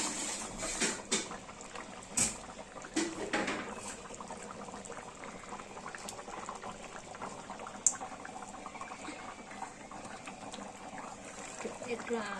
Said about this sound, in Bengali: ফুটছে দেখা